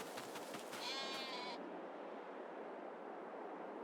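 Sheep bleat in the farming video game Farming Simulator 22: one short, wavering bleat rises over a loud, steady wash of broadband noise and then fades, leaving only the noise.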